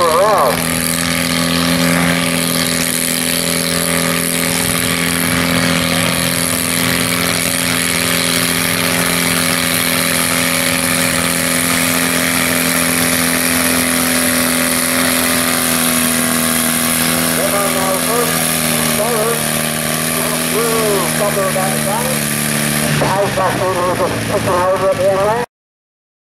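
A small garden puller engine at a 350kg/500kg pulling event drones steadily and loudly for most of the time, then its pitch wavers and sputters near the end before cutting off.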